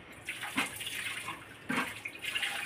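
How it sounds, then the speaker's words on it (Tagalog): Water sloshing and splashing in short bursts as rice is washed by hand in a pot, with a couple of louder swishes and a steady wet rinse between them, close and fairly quiet. "ganyan ka pala maghugas ng bigas"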